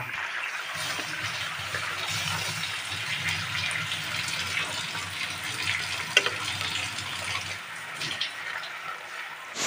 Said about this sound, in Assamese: আৰু এতিয়া মই এয়া পানীখিনি দি ল'লোঁ